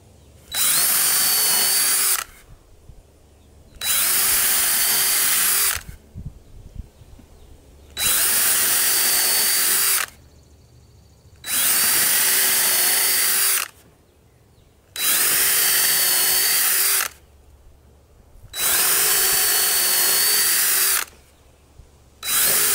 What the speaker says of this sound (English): I'm going to be using a 1/8 inch drill bit to make my pilot holes.